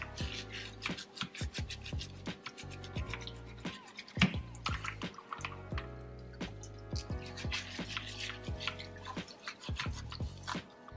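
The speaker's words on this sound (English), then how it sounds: "here I'm just rubbing the rice together" Continuous wet swishing and gritty rubbing of grains in water, with soft irregular drips and splashes, close up and fairly quiet.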